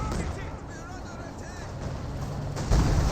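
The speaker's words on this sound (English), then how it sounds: "Another direct fire hit there." An anti-tank gun fires in Company of Heroes 2 during a battle against a King Tiger, its shot a dull boom within constant rumbling battle noise and a louder thump near the end, with a commentator talking over it.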